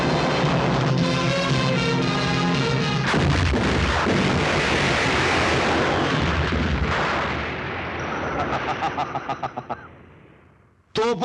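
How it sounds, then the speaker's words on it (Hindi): Cannon artillery fire booms in a Hindi film battle climax, a dense, loud barrage of blasts and rumbling, with voices briefly audible and a fading echo at the end. "तोपों की गूंज सुनो उल्मा।"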